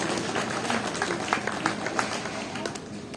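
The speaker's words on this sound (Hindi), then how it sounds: "जोरदार ताली जरूर बजा दीजिए सबके लिए।" An audience claps at a stage event, scattered, medium-loud hand claps of moderate density that keep going throughout, with a faint murmur under them.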